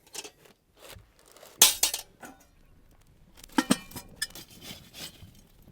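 Metal clanks and scrapes come up close as hot coals are shovelled and the lid goes onto a cast-iron camp oven baking damper outdoors, with sharp bursts and quieter gaps between them.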